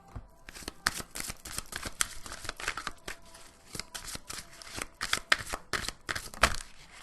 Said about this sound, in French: On va tirer une petite carte de Marie, ce qu'elle nous dit en même temps.